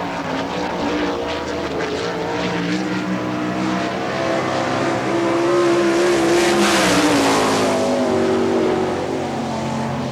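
A sprint car lapping Hartford Speedway in Ohio at an All Star Circuit of Champions race, its loud engine roaring continuously and rising and falling in pitch as it speeds around the track.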